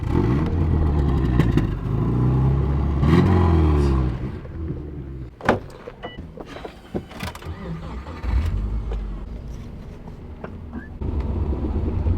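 All-wheel-drive Subaru rally cars at a rally school driving in a long convoy, engines rumbling and revving up close, then easing off with passing clatter and brief knocks before the engine noise builds again.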